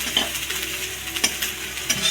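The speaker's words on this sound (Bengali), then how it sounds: "এরকম করে আদাটা একটু ফ্রাই করে নেবেন" Grated ginger sizzles briefly in hot oil, a short, even frying hiss with a few light spoon taps against the pan.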